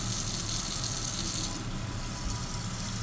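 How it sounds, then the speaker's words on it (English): Hot water gushes steadily from a kitchen tap into a sink, a continuous broad hiss at close range with no one speaking over it. "I got some hot water we're going to throw on."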